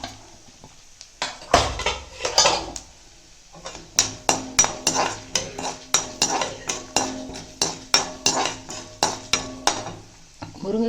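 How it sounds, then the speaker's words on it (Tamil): Urad dal and chana dal roasting in a pan, with a utensil repeatedly scraping and clinking against the metal in a steady rhythm of sharp strokes over a soft sizzle, close and fairly loud. "உளுத்தம்பருப்பு, கடலைப்பருப்பு, பருப்பெல்லாம் நல்லா செவக்கட்டும்."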